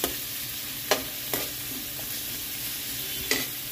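Vegetables sizzle in a frying pan as shahjeera (caraway seeds) goes in, a steady close hiss broken by four sharp utensil clinks against the pan. No voices.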